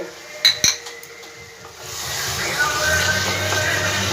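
A spoon mixes boiled potato into partly cooked chicken patty filling in a pan. A few sharp metal clinks come first, then a steady scraping, rubbing sizzle.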